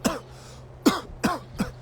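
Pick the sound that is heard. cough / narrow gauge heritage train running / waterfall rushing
cough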